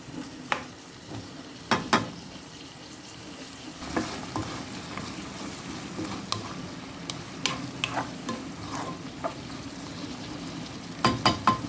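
Carrots stir-fry with minced pork in a pan under a continuous sizzle, with repeated sharp scrapes and clacks of a utensil against the pan at irregular intervals.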